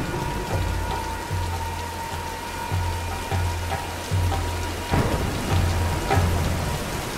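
A rain and thunder storm in the 2013 Tomb Raider game, steady rain pattering on surfaces under a low rhythmic rumble, with thunder cracks and swells, fairly loud, no talk.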